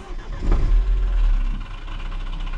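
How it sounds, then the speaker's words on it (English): A BMW 114i with an N13 engine and a stage 2 ECU flash cranks and catches, surging briefly before settling into a steady, rumbling idle with a slight rattle. "turn on the car."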